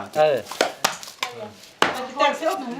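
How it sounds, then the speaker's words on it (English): Several sharp knife chops on a board as spicy chili wood stick is cut up for Khmu olam in a Lao village kitchen, irregular close strikes mixed with voices talking. "which is he's chopping up that spicy stick"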